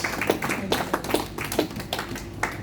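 A church congregation claps in rhythm to acclaim the preacher, with quick, close hand claps repeating steadily.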